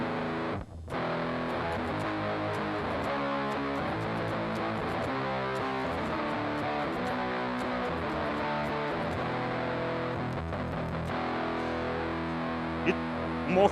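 Music played through a fuzz effect processed in JavaScript, a dense, heavily distorted, square-edged tone sustained at steady loudness for several seconds, with no voice over it.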